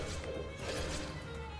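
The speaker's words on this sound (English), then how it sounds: "Break that pot." A clay pot shatters in the video game 3D Dot Game Heroes, a brief quiet crash and clatter that sits low in the game's background audio.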